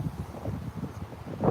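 Gusty wind buffeting the microphone in low, uneven rumbles, with no voices.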